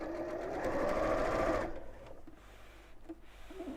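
A sewing machine stitching a seam in fabric runs in a fast, even whirring burst for about a second and a half, then stops, leaving quieter handling sounds.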